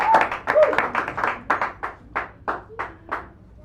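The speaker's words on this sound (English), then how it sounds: "give him a round of applause to get this started" Small café audience at a poetry reading gives a short round of applause, a handful of distinct, close claps in a loose rhythm that thins out into sparse individual hand strikes.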